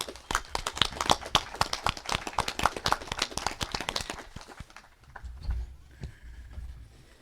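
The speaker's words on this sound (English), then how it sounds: "How about a round of applause?" Applause at a camping club's annual member meeting, a burst of distinct, fairly close hand claps from a small group that stops abruptly partway through, leaving quiet room noise.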